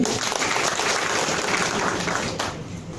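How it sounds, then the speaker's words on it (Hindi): Hall audience at a DXN motivational programme in Doha, Qatar, breaks into loud, thick clapping that holds steady, then tapers off at the end. "उनके लिए एक जोरदार ताली"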